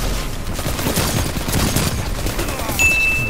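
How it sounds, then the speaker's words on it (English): Arbalest linear fusion rifle firing in Destiny 2 Crucible PvP, a dense burst of sharp gunfire and booming impacts layered with other battle noise, followed by a thin high whine near the end. "I hear an arbalist out there, man. Terrifying sound."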